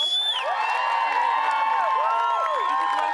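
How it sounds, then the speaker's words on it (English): A crowd at the Midsumma Pride festival cheers and whoops with whistle-like shouts, a dense, steady wall of voices that holds its level throughout. "Give her a bigger applause than that."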